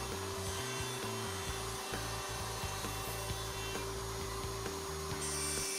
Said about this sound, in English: The socket board is routed by moving in and out of the template openings.